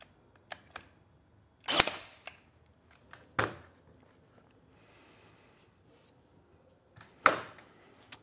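A pin nailer drives headless pin nails into wood for a van-build drawer: several sharp, isolated pops spaced seconds apart, with quieter clicks and handling noise in between, close and distinct.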